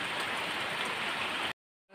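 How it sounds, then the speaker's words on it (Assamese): Rain falls outside a house, heard from indoors as a steady broadband hiss that cuts out abruptly near the end, after which only faint sound returns. "এয়া ইপিনে বৰষুণ পৰি আছে"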